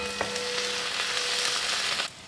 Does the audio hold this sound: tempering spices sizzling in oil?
yes